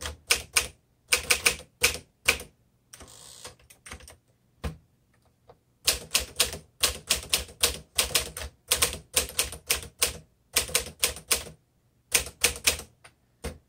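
Typing on a 1957 Smith Corona Super Silent manual typewriter, with close, crisp keystrikes in rapid clattering bursts separated by short pauses and a quieter carriage movement near the start.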